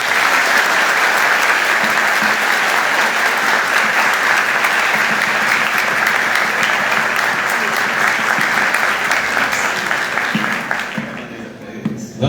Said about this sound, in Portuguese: Um aplauso a todos.